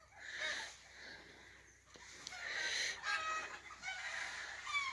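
Hens clucking and squawking in a small flock outdoors in snow, with a rooster-like call rising among them, moderately loud and continuous throughout.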